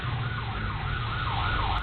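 A police patrol car with its lights on chases a motorcycle carrying two riders, its siren wailing in a loud, continuous rising and falling sweep over road noise, with no talk.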